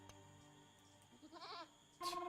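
A goat bleats in a video game, a short wavering cry near the middle over a steady layer of game music and ambience, then a bright chime-like effect at the end.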